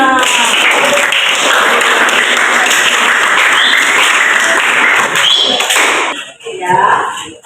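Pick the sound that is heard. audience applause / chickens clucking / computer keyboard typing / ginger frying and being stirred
audience applause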